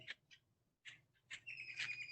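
A bird calls inside a council meeting room, several short high chirps and a longer whistling trill in quiet surroundings with a faint low hum.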